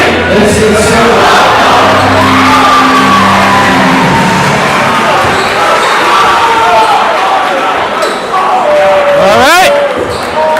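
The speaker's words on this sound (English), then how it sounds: "crowd's tuned up, ready to go." Crowd noise fills a high school basketball gym before tip-off, a loud continuous roar of voices and cheering with a ball bouncing and sneakers squeaking on the court.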